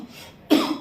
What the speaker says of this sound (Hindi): सॉरी खांसी है मुझे